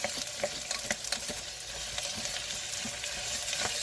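Rice being stirred in oil inside a Cuisinart 4-cup rice cooker, a steady broadband sizzle with soft scraping stir strokes, close and continuous with no talking.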